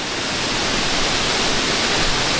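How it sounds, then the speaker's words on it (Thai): A steady, roaring rush of falling water from Mae Po Ki waterfall in Tha Song Yang, Tak, Thailand fills the whole clip, loud and constant like standing close to it. "มันจะมีเสียงน้ำเยอะหน่อยนะครับผมก็เลยต้องตะโกนนิดนึงนะครับผม"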